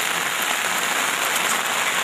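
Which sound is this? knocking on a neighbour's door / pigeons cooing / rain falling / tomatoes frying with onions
rain falling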